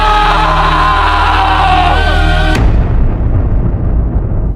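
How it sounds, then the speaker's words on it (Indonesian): A man's loud, anguished scream of regret rings out over swelling film score at the close of a creature horror film, then cuts abruptly into a roaring, rumbling wash of noise. "Di akhir film kita melihat teriakan penuh penyesalan David"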